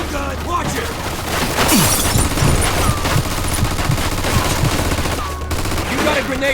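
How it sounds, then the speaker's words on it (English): Machine gun firing in a video game war scene, a loud sustained rattle of rapid shots with breaking and debris sounds, while voices talk over it. "Looks like we found the machine gun"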